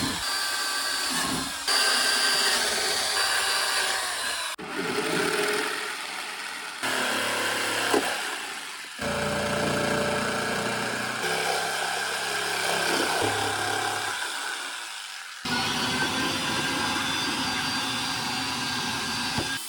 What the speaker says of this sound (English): we got to drill some holes in the corners so our jigsaw has a place to turn around